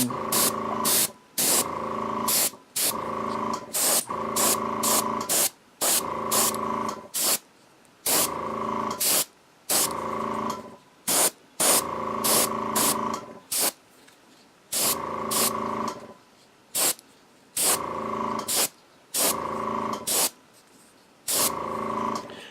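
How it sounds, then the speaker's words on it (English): Short bursts of aerosol spray paint misting onto a miniature model, repeated in an irregular rhythm of quick hissing puffs with brief pauses, close and loud with no voices. "I always use a respirator mask when I'm spraying stuff so that you're not breathing in all the fumes."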